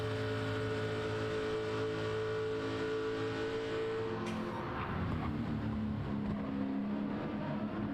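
Race car engine at the Le Mans Classic, a loud steady drone with strong harmonic tones that shifts and falls away partway through as the throttle eases off, continuous and close throughout.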